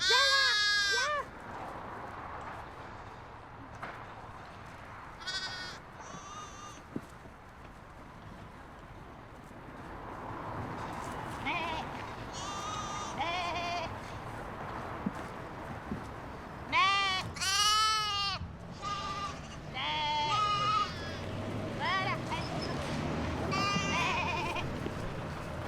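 Sheep raised on an urban farm in the Paris suburbs bleat repeatedly and fairly close, several overlapping calls rising above a steady outdoor background with faint rustling and movement.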